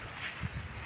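Small birds chirping near a fishpond, faint high tweets repeating over a steady outdoor hiss.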